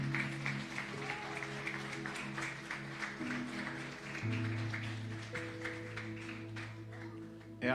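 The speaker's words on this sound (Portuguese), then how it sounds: "Aplauda ao Senhor" A church congregation claps for the Lord during a worship conference, a steady mass of hand claps over sustained organ or keyboard chords, with scattered voices mixed in.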